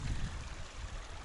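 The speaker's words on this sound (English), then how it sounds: "Look at the water flow." Water of a stream flows in Sequoia National Park, a soft, continuous rushing and gurgling wash, fairly faint and steady, with a slightly stronger low rumble at the start.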